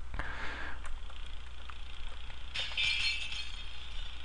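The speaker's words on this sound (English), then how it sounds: "Another stupid glass break." Glass shatters in the video game Happy Wheels, a sharp crash followed by scattered tinkling shards, then a second bright burst of breaking glass with clinking fragments trailing off over a low steady hum.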